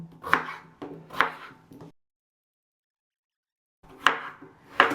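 A knife slices vegetables for pumpkin soup on a board: a few crisp, close cuts, then a couple of seconds of silence, then two more sharp slices.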